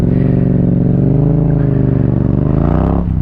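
Honda XRM motorbike engine revving close and loud, a steady throbbing drone that holds for a few seconds before easing off near the end.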